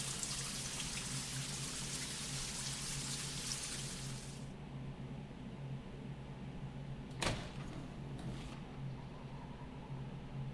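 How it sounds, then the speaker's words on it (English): A shower in the game Spirit Hunter: NG hisses with dense, steady running water for about four seconds, then cuts off, leaving a quiet hum broken by a single sharp click. "Sure, let's take a shower."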